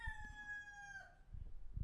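A rooster crows once, a loud sustained call with a falling tail, heard alone before low thumps and rustling take over.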